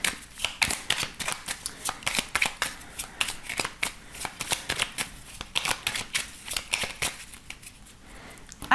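Oracle cards shuffled by hand, a dense run of close papery flicks and riffles at a brisk uneven rhythm, continuing throughout without speech.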